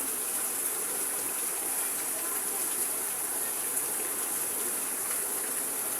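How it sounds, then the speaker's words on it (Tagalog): Heavy rain pours down outside a house, a dense, unbroken hiss of falling water that stays loud and even throughout, with no voices over it. "Malakas talagang ulan."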